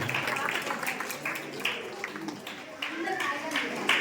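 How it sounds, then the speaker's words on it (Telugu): Audience applause at a Vasavi Kanyaka Parameshwari Jayanti festival event held by a community association in Kuntloor, heard as a steady burst of many hands clapping at moderate distance, with voices talking over it. "అందరూ ఒకసారి క్లాప్స్ కొట్టాల్సిందిగా కోరుతున్నాం"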